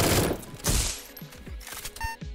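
A newly acquired gun fires in a video game, giving a few loud sharp bursts with decaying tails over about two seconds.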